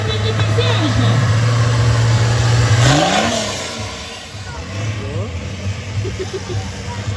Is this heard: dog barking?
no